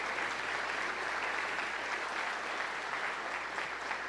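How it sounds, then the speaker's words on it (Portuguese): A church congregation applauds during a worship service: steady, dense clapping from many hands that holds at an even level throughout, with no voices on top. "Você pode aplaudir ao Senhor Jesus."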